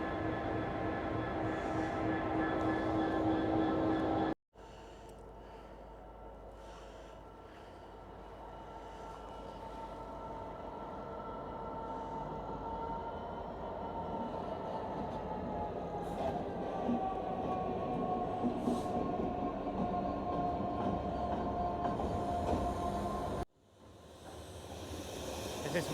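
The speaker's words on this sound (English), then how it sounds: "The train we're about to get on is about to pull in now. It's just coming into the station." A train rumbles steadily into a station in Grimsby, England, a long, even roar with squealing tones from the wheels; it cuts off abruptly twice.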